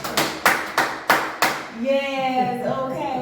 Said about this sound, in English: Now you can clap as many times as you want.